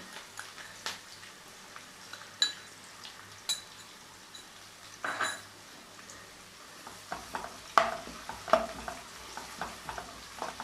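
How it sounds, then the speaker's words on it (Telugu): Ginger garlic paste frying in a pan for restaurant-style chicken fry, a soft steady sizzle broken by scattered spoon scrapes and clinks against the pan, close by with no talk. "ఇది వేగుతుంటుందండి"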